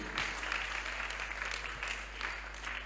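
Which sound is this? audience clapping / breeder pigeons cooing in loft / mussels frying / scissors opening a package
audience clapping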